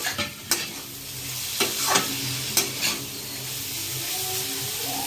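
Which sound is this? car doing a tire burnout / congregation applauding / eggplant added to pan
eggplant added to pan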